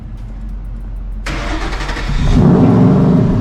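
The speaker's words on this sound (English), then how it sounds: "Cold start on the Boss 302. Let's hear it." Ford Boss 302 cold start: a brief starter crank, then the stock-exhaust V8 catches with a loud burst and settles into a throaty, rumbling high idle close by.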